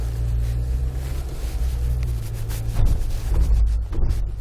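A 2020 Jeep fitted with Timbren Active Off-Road bump stops drives over an off-road test course. A steady low engine rumble blends with wind buffeting, and a few louder bumps come near the end. No one speaks.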